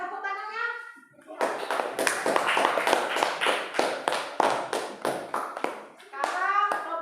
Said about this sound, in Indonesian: Mbak, tepuk tangannya.